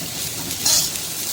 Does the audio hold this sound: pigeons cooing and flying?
no